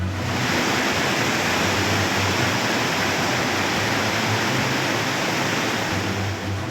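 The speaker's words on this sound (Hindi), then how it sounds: "दुकान के भीतर से पानी निकल रहा है और पानी का फोर्स देखिए" During monsoon flooding in Himachal Pradesh, floodwater gushes out of a shop with a powerful, steady roar that stays loud and close throughout, with no talking.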